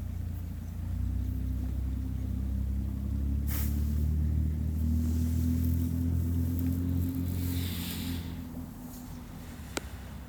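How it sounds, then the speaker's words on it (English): A car passes by outdoors in a park, a steady low engine rumble that swells and fades over several seconds, with a faint distant whoosh and a brief sharp click near the end. "Every time I hear a car, I'm like, fuck you."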